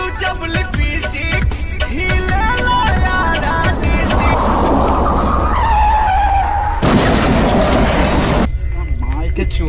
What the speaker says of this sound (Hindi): गुल्ली अपना सर हिलाता है और गाड़ी को और तेज भगाता है।